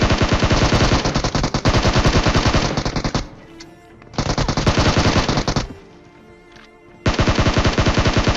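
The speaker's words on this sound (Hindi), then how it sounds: "देखो मेरे पे शॉटगन है" Rapid, loud gunfire bursts from a shotgun in the battle royale game PUBG, three sustained volleys of repeated shots separated by short quieter gaps with faint game ambience.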